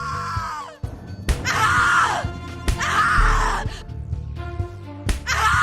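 Repeated loud screams from a tormented character in the horror game The Cat Lady, coming in three long bursts separated by sharp smacks and thuds, with low groaning and game music underneath.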